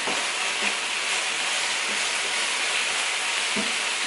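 Chopped onions frying in a pot as the base for a home-style beef stew, giving a steady, soft sizzle with a few faint scraping stirs, no talk.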